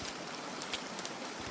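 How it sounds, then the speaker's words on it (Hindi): Rain falls steadily at low volume as a cartoon sound effect, a soft continuous hiss with scattered faint drop ticks and no voices. "बारिश अब कुछ धीमी हो गई थी, लेकिन हवा में ठंड बढ़ गई थी।"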